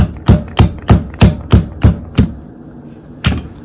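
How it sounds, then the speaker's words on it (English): A hammer drives a nail through a tin can braced on a solid surface: eight loud, evenly spaced metallic strikes with a ringing edge, a pause, then one final blow, close up and without talk. "I'm just going to use a nail and a hammer"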